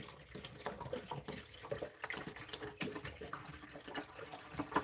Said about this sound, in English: So we're going to pour the water in.